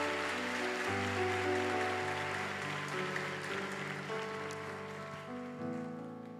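A church congregation claps steadily in a soft, continuous wash of applause over sustained keyboard chords that shift slowly underneath.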